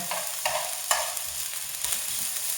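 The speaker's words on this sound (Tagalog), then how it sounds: "halo-halo lang natin hanggang maluto to" Angel hair pasta carbonara stirred in a pan, with repeated scraping strokes of a utensil over a soft, steady sizzle, close and moderately loud.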